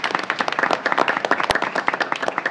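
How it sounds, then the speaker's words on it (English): Applause and clapping for a Senior of the Month honoree at an evening school board meeting, a dense, steady patter of many hands filling a short stretch without speech. "A round of applause for his family in attendance as well this evening"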